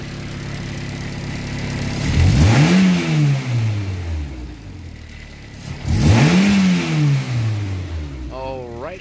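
A K-swapped, rear-wheel-drive Mitsubishi Starion revs hard twice, each engine sweep climbing and then falling back with a blow-off release, close and loud, with a voice briefly heard near the end.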